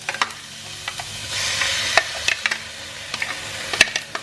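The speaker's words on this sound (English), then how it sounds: "in our pot, add some oil, curry leaves, the chopped onions, and also the onions that we've pureed." Oil in a pot sizzles with curry leaves, chopped onions and pureed onions for a vegetable karahi, punctuated by close spoon scrapes and clinks as it is stirred.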